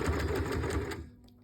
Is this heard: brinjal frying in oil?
no